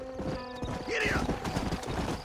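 A horse in the video game Red Dead Redemption breaks into a gallop, with rapid rhythmic hoofbeats and a brief whinny near the start, close and steady, while a voice speaks over it.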